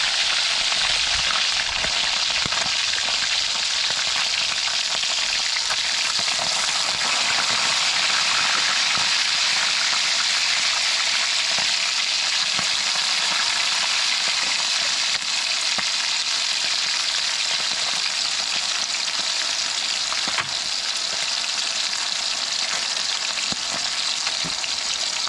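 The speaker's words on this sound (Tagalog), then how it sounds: "ating po naman piprituhin" Tulingan fish frying in a pan gives a loud, continuous sizzle with crackling pops scattered throughout, steady from start to end, with no talking.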